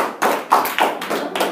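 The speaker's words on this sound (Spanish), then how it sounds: "dale un fuerte aplauso al Señor Jesucristo" Church congregation clapping at a service in Snyder, Texas, heard as uneven bursts of handclaps rising and falling over about a second and a half, fairly close and moderately loud.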